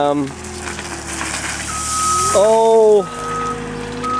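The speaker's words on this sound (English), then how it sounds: "you can see Levi down there with the Bobcat filling in the gravel for the drainage around the barn foundation" A Bobcat skid steer works outdoors filling gravel around a barn foundation, a grinding, crunching rumble with a reversing beep tone and engine whine, voices talking over it.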